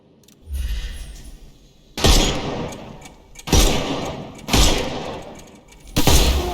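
Bursts of gunfire in a Sherlock Holmes video game, blasting armour off enemies: four loud, close volleys with sharp onsets that each trail off, spaced about one and a half seconds apart, with no voices.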